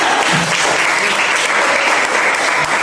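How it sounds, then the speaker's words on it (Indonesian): Seminar audience in a hall clapping for a participant who answered a question on academic procrastination, dense, steady applause that stays loud for the whole stretch. "tepuk tangan dulu dong untuk yang bisa menjawab."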